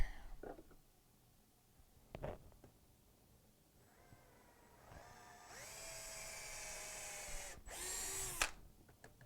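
A power drill whines in bursts while drilling metal, rising to a sustained high-pitched grind, with short pauses and faint clicks between runs.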